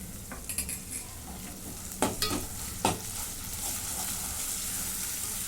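A paste of grated coconut and coriander leaves sautés in a pan with a soft, steady sizzle, broken by a few sharp scrapes and taps of a spatula against the pan.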